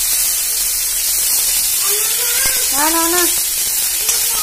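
Green chillies fry in oil in a pan for a chutney, making a constant bright sizzle that runs underneath a woman's brief speech.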